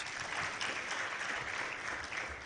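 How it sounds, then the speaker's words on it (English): An audience at a national agroecology symposium gives steady, continuous applause, a dense and fairly distant wash of clapping with no voices over it. "I want to hear a very huge round of applause."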